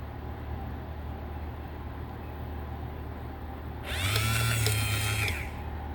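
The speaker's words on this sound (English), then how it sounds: "showing how the limiter-based feature works and the full extension and contraction of the power antenna" Power antenna motor on a 1976 Cadillac, a short, loud mechanical whir lasting about a second and a half that starts abruptly and stops, heard over a low background hum, without talking.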